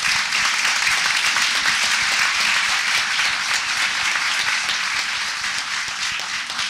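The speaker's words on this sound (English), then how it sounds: "let's give them a round of applause." An audience at a wool symposium gives a round of applause, producing dense, steady clapping that fills the room at close range and fades slightly toward the end.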